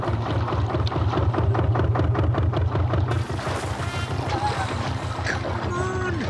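An engine on a small animated boat called Trojan, pushed to full throttle, chugging in a steady pulsing rhythm. The tone shifts partway through as the engine strains, with splashing and wind behind it.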